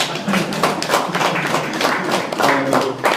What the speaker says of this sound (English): Can you clap hands?